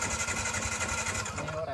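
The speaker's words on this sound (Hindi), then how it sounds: "अभी यहाँ पे बाइक निकल रहा है" A motorbike engine idles and revs nearby as the bike is taken out, a pulsing mechanical throb with a brief rising whine near the end, mixed with background voices.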